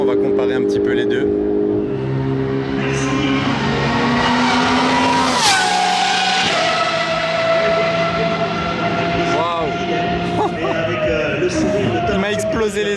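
Loud supercar on a race circuit, its high-pitched engine wail sweeping past with a sharp pitch drop as it passes close by, then fading while rising and falling revs continue, with someone talking.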